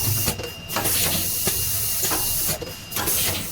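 A UV silk screen printing machine with an automatic color sensor runs a black third-color pass, giving a steady mechanical hiss and hum with periodic louder sweeps of the printing stroke, close and continuous without talk.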